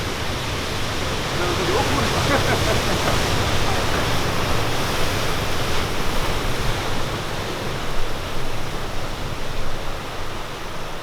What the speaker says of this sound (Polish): Wow, patrz jak tu poszło aż tutaj te fale.